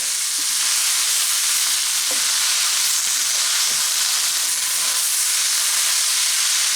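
Corned beef hash frying in a pan while being stirred and mixed, giving a steady, loud sizzling hiss throughout with faint scraping clicks of a utensil scattered across it; no talking.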